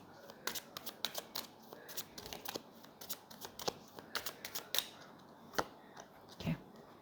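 Tarot cards are shuffled during a Libra reading, giving a quiet run of soft riffling flicks and taps close by, with no voice over them.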